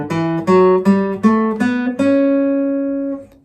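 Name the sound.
traditional seven-note major scale played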